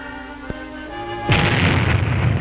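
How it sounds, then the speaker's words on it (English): An atomic test bomb blast strikes two test houses, tearing away part of each roof: a faint click, then a sudden loud roaring rumble breaks in and holds as a dense, sustained broadband blast to the end. "The light flash and the heat wave, then the blast tears away part of each roof."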